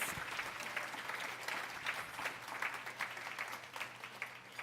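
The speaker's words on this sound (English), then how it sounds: "let's give another round of applause for these amazing young leaders" Audience giving a round of applause for young leaders at an environmental justice youth event, a continuous patter of many hands with slightly uneven swells, moderately distant, no voices on top.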